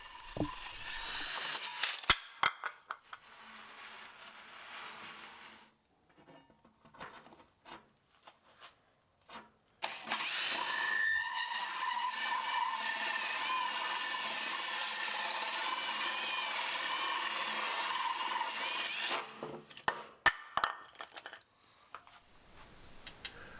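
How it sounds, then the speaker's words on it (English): Short scraping and rubbing bursts on wood give way to a long, steady whir from a brushless cordless drill boring pilot holes in a workbench top, running about nine seconds before ending with a few knocks. "right now I'm just drilling the pilot holes in each of the areas"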